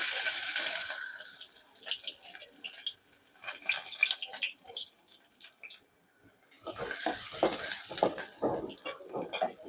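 Finely chopped onion fries in a little oil while being stirred for homemade chicken kharda, giving bursts of hissing sizzle and light utensil scraping that fade in the middle and then swell again.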